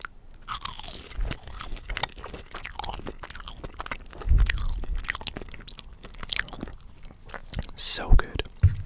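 Crunchy bites and close chewing of Hungry Jack's fries, several sharp crunches with mouth sounds, close-miked and quiet with faint whispering.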